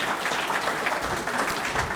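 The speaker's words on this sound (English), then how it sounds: "To our panelists, give them another round of applause." Audience applause for a discussion panel fills the short stretch, a continuous burst of many hands clapping at close, even loudness with no pause.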